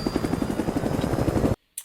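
Helicopter rotor thumping steadily and loud amid battle noise in the Vietnam War film We Were Soldiers, a rhythmic chop that cuts off abruptly near the end.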